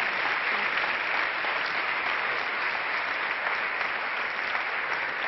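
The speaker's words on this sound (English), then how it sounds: "Big applause." An audience at an award ceremony, a first-place win at the United Nations, applauds with dense, even clapping that fills the whole stretch at a steady, fairly loud level, with no voices standing out.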